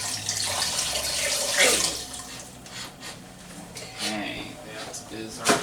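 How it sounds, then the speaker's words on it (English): Chicken stock is poured from a container into a pot of soup, giving a steady, close splashing pour that tapers off, while a person talks over it. "I'm just going to pour this whole container in."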